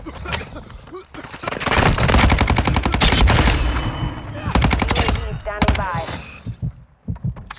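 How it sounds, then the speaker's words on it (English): Heavy automatic gunfire in Call of Duty: Modern Warfare 2, dense rapid bursts close and loud for several seconds, easing into scattered shots toward the end, with shouted game voices mixed in. "Taking effective fire!"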